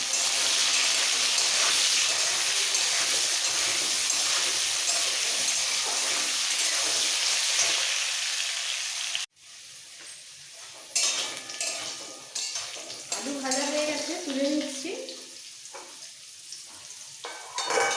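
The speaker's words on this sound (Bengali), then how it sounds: "এবার আলুগুলোকে একদম লাল করে ভেজে দেবো" Potatoes frying in oil in a pan, a loud dense sizzle for about nine seconds, then a brief drop and quieter sizzling with clinks of a utensil against the pan.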